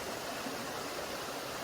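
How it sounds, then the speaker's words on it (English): A waterfall in the Adirondacks gives off a steady, broad rushing roar, heard at a moderate distance and unbroken for the whole brief stretch. "and there was another waterfall over that way"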